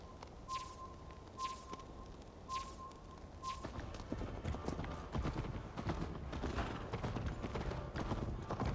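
Horse hooves galloping in Assassin's Creed Valhalla, a rapid steady clip-clop that grows louder and denser as the ride picks up, with game ambience and a few chime-like tones early on.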